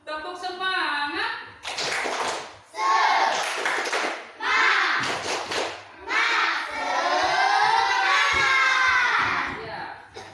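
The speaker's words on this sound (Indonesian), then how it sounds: "Tepuk semangat." Young children in a classroom lesson perform a rhythmic spirit clap, loud bursts of clapping mixed with shouted, chanted voices, close and energetic over about ten seconds.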